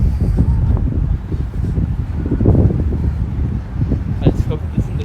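Gusty wind buffets the microphone outdoors on a downtown street in Winder, Georgia at night, a steady low rumble with swelling gusts running through the whole stretch, with voices talking faintly beneath it.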